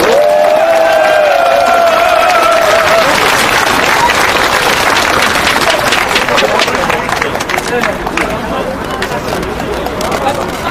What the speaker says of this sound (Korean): 우리 모두를 위해서 힘찬 박수 부탁드리겠습니다